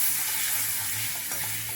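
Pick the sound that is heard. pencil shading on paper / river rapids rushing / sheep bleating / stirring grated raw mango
stirring grated raw mango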